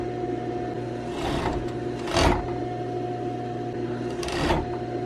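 A serger overlock sewing machine stitches stretchy flare fabric, a steady mechanical whir that swells into brief louder bursts of stitching, close and without talk.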